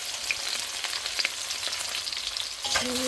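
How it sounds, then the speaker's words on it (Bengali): Steady crackling sizzle of cloves, cardamom, cinnamon and bay leaves frying in hot oil, close and continuous, with a faint stir near the end. "তেল গরম হয়ে আসলে এখানে লং, এলাচি, দারচিনি, তেজপাতা দিয়ে দিলাম"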